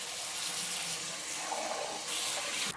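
Running tap water pours steadily over canned white kidney (cannellini) beans being rinsed, a close, continuous splashing hiss with no talking.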